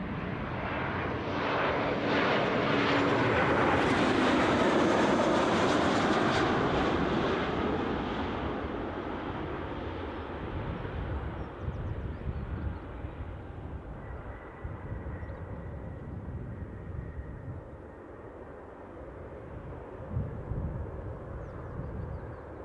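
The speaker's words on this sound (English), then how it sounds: "Right, I can hear the Embraer." Embraer jet at Newcastle airport, a loud, broad engine roar that swells as the aircraft passes near, then fades into a rumbling, gusty drone over about twenty seconds, with no speech.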